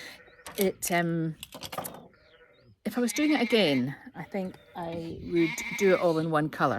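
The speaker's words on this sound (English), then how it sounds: "you can probably hear the sheep and the lambs baaing behind me" Sheep and lambs on the island of Tiree bleat repeatedly in the background, rising and falling, while a person talks steadily over them.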